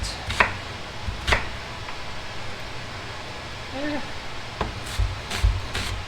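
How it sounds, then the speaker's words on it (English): A knife chops an onion on a cutting board for an Irish beef stew, giving a handful of sharp, irregular chops separated by pauses, fairly close but quiet against a soft room background. "I just chopped an onion in less than a minute"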